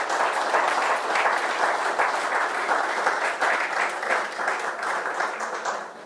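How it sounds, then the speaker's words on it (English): A crowd at an indoor preview night for the Cheltenham Festival gives a full round of applause, dense steady clapping that holds for several seconds before starting to fade. "I'd like to give them all a round of applause"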